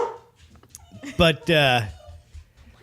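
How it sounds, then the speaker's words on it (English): A dog at home gives short whining barks and yips in a couple of loud bursts, close to the microphone, while a person talks nearby. "that's my dog. She thinks somebody's here."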